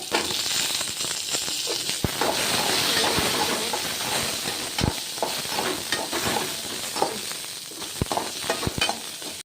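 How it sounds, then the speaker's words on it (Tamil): Garlic, green chillies and small shallots sautéing in a pan, a loud continuous hiss and sizzle broken by sharp scraping clicks from stirring. "பூண்டு, பச்சை மிளகா ஒரு 4 சின்ன வெங்காயம் போட்டு ஒரு வதக்கிட்டு"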